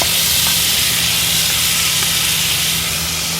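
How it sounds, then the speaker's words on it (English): Seasoned, oiled precooked potatoes searing on a hot griddle, a steady loud sizzle and hiss that holds evenly throughout with no talking. "I'm gonna go ahead and get them and start searing those off."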